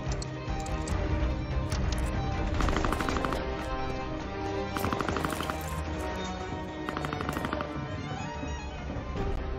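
Sustained gunfire in the Call of Duty Vanguard campaign during the Fall of Stalingrad, with dense bursts of automatic weapons and rifle shots layered over a loud, continuous battle din.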